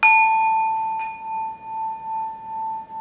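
A single metal bell is struck once, loud and close, and its clear tone rings out and slowly fades with a gentle pulsing wobble over about three seconds.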